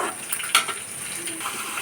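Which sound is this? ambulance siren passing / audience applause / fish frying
fish frying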